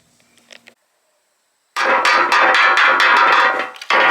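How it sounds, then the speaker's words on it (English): Loud, rapid metal hammering as holes are beaten flat on a metal part during car engine work, a quiet pause first, then a dense run of close, sharp strikes with a brief gap near the end. "whack on them holes and get them flat"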